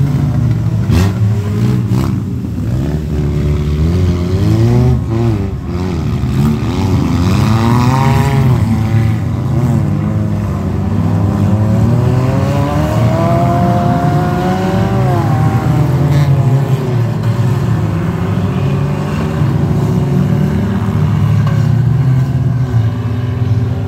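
Race cars roar around an ice track on frozen Buffalo Lake, several engines revving and droning together in a loud, continuous pack that rises and falls steadily throughout.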